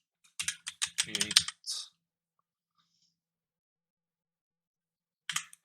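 Quick bursts of computer keyboard typing as a command is entered in a code editor: a clicking flurry of about a second and a half, then silence, then a brief second burst of keystrokes at the end.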